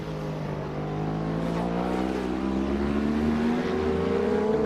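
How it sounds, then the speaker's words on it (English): A Ducati 888 V-twin superbike at a 1990 World Superbike race in Manfield, its engine note climbing steadily as it accelerates out of a tight right-hander, loud and close with no talk. "Raymond Roche on the V-twin Ducati, 888 cc's, down into the braking area, through the tight right-hander."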